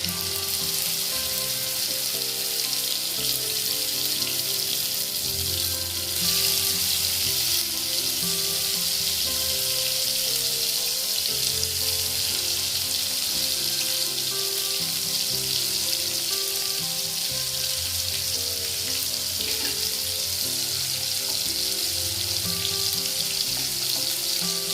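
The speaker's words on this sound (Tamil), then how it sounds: "அடுத்த மீதி இருக்க சிக்கனை திரும்ப போட்டு இது மாதிரி ஃப்ரை பண்ணி எடுப்போம்" Chicken pieces fry in a pan for a chicken kal roast, giving a steady, dense sizzle that runs unbroken and close throughout, with faint low clatter beneath and no voices.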